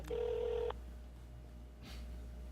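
A phone number is being dialed, a short run of loud, steady touch-tone beeps lasting under a second, followed by quiet line hiss and a faint click.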